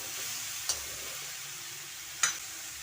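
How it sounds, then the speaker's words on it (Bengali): Malabar spinach being stirred in a pan with salt and sugar gives off a faint, steady low sizzle. Two brief spoon taps come through, about a second and a half apart, with no talking. "চিনি আর নুন ভালোভাবে মিশিয়ে নেব।"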